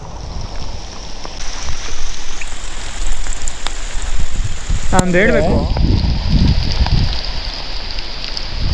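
Rain falling during a loaded solo motorbike ride toward Sakleshpur, a steady wash of hiss and wind noise throughout, with a brief whistling or squeal in the middle and a voice talking over it.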